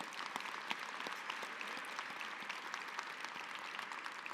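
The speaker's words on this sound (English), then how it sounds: "yes, worth an applause" Steady applause from an audience fills an awards ceremony hall, a continuous, distant wash of clapping that holds at an even, fairly quiet level throughout.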